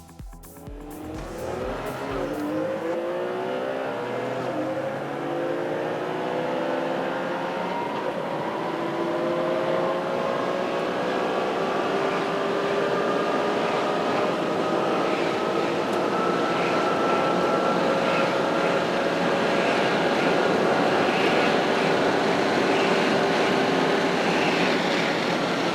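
A Porsche racing a Ferrari 599 GTB with its 620 horsepower V12 and sequential F1 gearbox, the engines climbing steadily in pitch under hard acceleration, a loud sustained roar alone with no talk.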